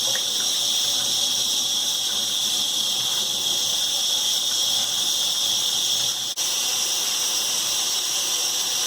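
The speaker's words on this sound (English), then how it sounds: "So I'm just going to rinse them through" Dandelions and stinging nettles are rinsed under a running tap, a steady hissing rush of water that continues nearly unbroken, with a brief dip partway through.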